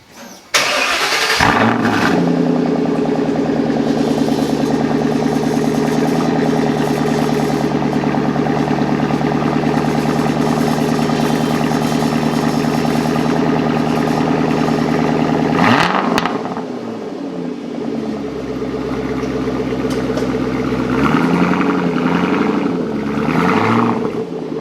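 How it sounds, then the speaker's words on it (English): A Ford Shelby GT500 cold start: the starter cranks, the engine fires with a loud bark, then settles into a steady, deep high idle, drops lower after about fifteen seconds and keeps rumbling close up. "let's start this with a cold start"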